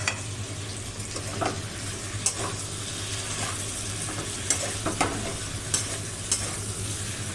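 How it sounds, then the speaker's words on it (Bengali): Chickpeas sautéing in hot oil in a pan, a steady background sizzle broken by several scraping stirs of a spoon against the pan, close and fairly quiet. "এবার আমি ছোলাগুলো দিয়ে দিলাম।"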